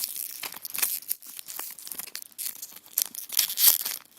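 A foil Pokémon booster pack is torn open by hand, giving a close, crinkly ripping and crumpling that comes in uneven bursts over a few seconds, with no talking.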